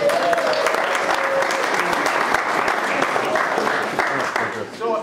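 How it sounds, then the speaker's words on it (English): A gathered crowd at a triathlon event in Guernsey applauds the organising committee with sustained, dense clapping that stays loud throughout, with some voices mixed in and a slight dip near the end. "So please give the committee a round of applause"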